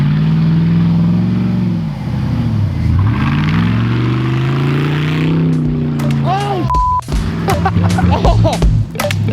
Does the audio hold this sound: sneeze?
no